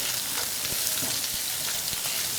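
Marinated pork and shrimp stir-frying in hot oil in a pan for Thai dry suki, a steady close sizzle with small scraping stir clicks throughout, no voices.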